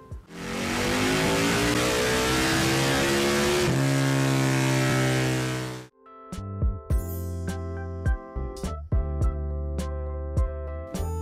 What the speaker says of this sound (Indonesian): Nuda 900 menggunakan mesin paralel twin dengan suara menggelegar yang sangat fenomenal dan terkenal